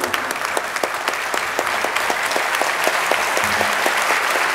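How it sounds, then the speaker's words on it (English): Applause from an audience at an award ceremony for excellence in science and technology, many hands clapping steadily with sharp individual claps standing out from a dense, even wash of sound throughout. "Let's give her a big round of applause, ladies and gentlemen."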